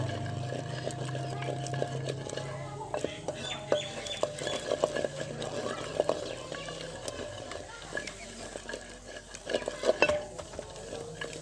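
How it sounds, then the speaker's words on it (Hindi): Spoon scraping and stirring as yogurt is mixed into a cooking dish, soft irregular clinks and scrapes close by, with a person talking over much of it. "अब इसमें डालेंगे दही, इसको अच्छी तरह मिक्स कर लें।"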